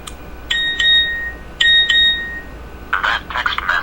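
A phone text message notification tone plays as two pairs of bright electronic beeps, then a quicker warbling chime, loud and close, with no talk over it.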